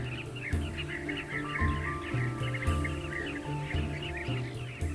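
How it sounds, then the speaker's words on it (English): A colony of bee-eaters calls around their burrow nests in a dirt bank, many birds chirping and trilling at once in a busy overlapping chorus over a low musical background. "The bee-eater is one of the few burrowing birds in the world."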